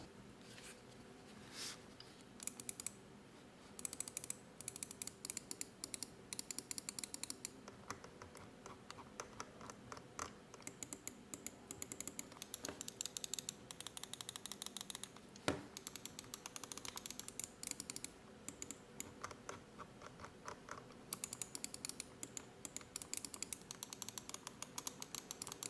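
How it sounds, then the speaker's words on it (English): Glorious Model D gaming mouse switches clicked repeatedly for a sound test: a long stream of faint, quick clicks in irregular bursts and short pauses, quiet and close with no talking. "Now for a sound test of these mouse switches."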